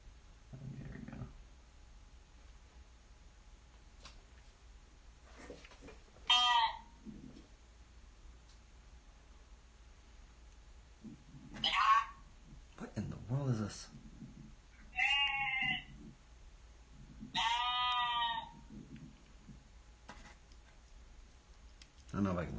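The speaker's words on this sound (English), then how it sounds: "I feel like sheep sound would not be on copyright." Recorded sheep bleating, several separate wavering bleats spaced through the stretch, clear over a faint steady hum, with a person speaking briefly between them.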